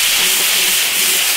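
Chili sauce with ginger and garlic is stir-fried in an iron wok until the red oil separates, making a loud, steady, close sizzling hiss throughout.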